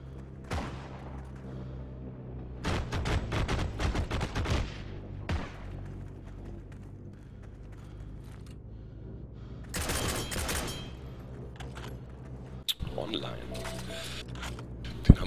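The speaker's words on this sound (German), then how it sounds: "Erstmal offline geschossen" Gunfire in the shooter game Heroes & Generals comes in loud rapid bursts separated by quieter stretches, with single sharp shots near the end and a voice talking between them.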